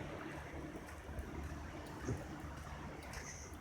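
Calm early-morning sea at the Alanya shore, small waves lapping faintly in a steady, soft wash with no voices.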